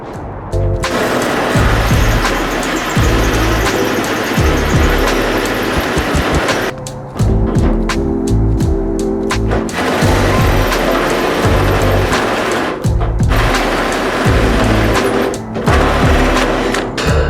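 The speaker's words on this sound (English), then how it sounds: "Alright, here it goes. 2-inch Makita hole dozer" A 2-inch Makita Hole Dozer hole saw drills through material in three long, loud bursts of grinding and rattling, with brief pauses between cuts.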